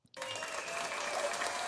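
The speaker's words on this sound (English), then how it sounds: "Hit the applause, man." A canned applause sound effect starts abruptly after a brief silence and runs as a steady crowd ovation, played during a live trading stream.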